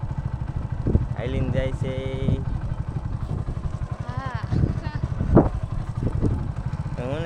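A Honda motorcycle rides along with a steady, close engine drone under repeated speech, with a few louder passing sounds mixed in.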